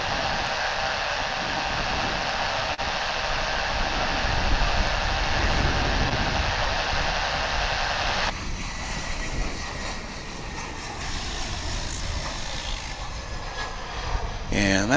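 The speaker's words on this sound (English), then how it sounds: "that there, folks, is American Flight 2612 coming in from Denver. And A321." American Airlines A321 airliner arriving from Denver and landing at Dallas/Fort Worth International Airport, a sustained loud jet roar that shifts in tone partway through, with people talking over it.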